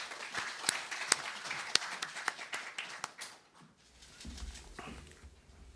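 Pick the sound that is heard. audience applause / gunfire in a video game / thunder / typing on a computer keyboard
audience applause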